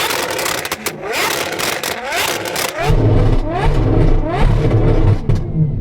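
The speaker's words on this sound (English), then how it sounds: "So we've got Sam, you've got another V12." A V12 car's exhaust is revved during a loudness test, with sharp repeated throttle blips building into a deep, loud, sustained engine roar; a voice is heard at the start before the revving dominates.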